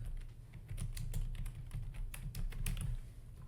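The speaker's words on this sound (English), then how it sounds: "And I'm going to type in Buena Park." Quick keystrokes on a computer keyboard, a brief close run of light clicks at a soft level with no voices.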